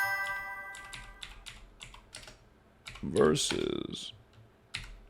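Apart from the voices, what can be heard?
computer keyboard typing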